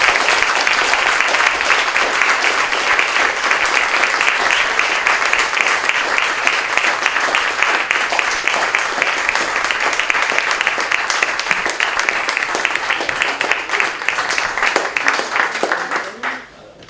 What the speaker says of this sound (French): On fait l'applaudissement.